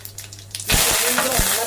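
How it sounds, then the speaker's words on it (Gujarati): Mustard seeds and cumin dropped into hot oil set off a sudden loud burst of sizzling and crackling that holds steady, close up, after a quieter start. "અહીં તેલ આપણું ગરમ થઈ ગયું, નાખીએ રાઈ, જીરું"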